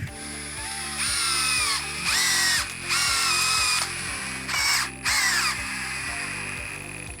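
A power driver sinks a Würth ASSY 4 WH false-washer-head timber screw into 45 mm wood framing studs, giving several close, whining motor bursts with brief pauses between them.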